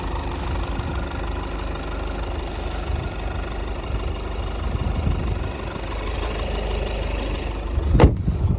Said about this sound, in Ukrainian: Ось, друзі, робота двигуна.